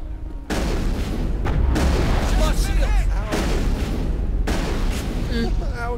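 Missile blasts and weapon fire in the Mass Effect video game, a loud, dense barrage of booming explosions with chirping electronic effects running almost continuously, with a voice talking over the action.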